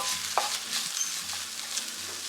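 A spatula scrapes and stirs cabbage thoran with grated coconut in a pan, soft scraping strokes over a steady, gentle sizzle, close by.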